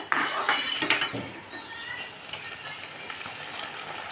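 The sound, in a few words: lifting the lid off a pot of steamed egg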